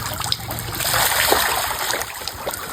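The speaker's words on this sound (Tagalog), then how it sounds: "first experience ni Dan ay ang maligo sa ilog" Water splashes and trickles steadily as someone bathes in a river in Libon, Albay, a continuous close wash of moving water with scattered small splashes and no talking.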